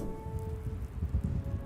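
Steady rain pattering across a realistic-biomes Minecraft world, a soft continuous hiss with low rumbling texture and a faint sustained musical tone underneath, no voices.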